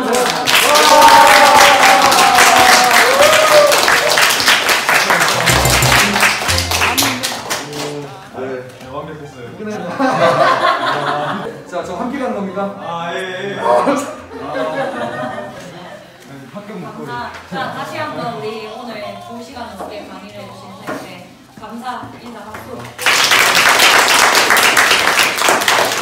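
Audience applause at the close of a lecture, dense broadband clapping swelling at the start and again near the end, with quieter murmuring and a few voices in between.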